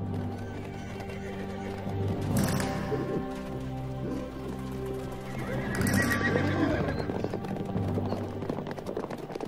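Wild desert horses in Namibia whinny loudly at a remote waterhole, two long neighs rising and falling a few seconds apart over hoof clatter and ambient noise, with a narrator speaking quietly beneath.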